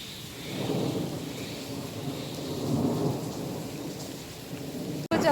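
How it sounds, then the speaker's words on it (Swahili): Steady heavy rain pours throughout, with rumbling thunder rising and falling beneath it, and a brief sharp knock near the end; no speech. "Kuja kuonyesha mvua."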